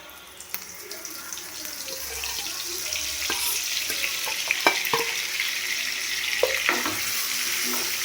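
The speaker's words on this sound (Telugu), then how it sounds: "మనం ఏదైతే ఈ మెదడును మ్యాగ్నేషన్ చేసుకున్నామో అది ఆయిల్లో వేయాలండి." Marinated mutton brain sizzles steadily in hot oil, a continuous close frying hiss with occasional soft taps and scrapes of stirring, and no voices.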